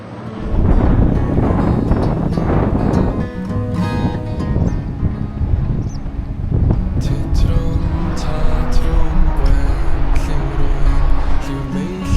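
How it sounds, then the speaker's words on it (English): Strong, gusty wind buffets the microphone on an exposed stretch of the Wales Coast Path, a loud, rumbling roar that rises and falls continuously with no pauses; no speech is audible. "Nice to be out of the wind now"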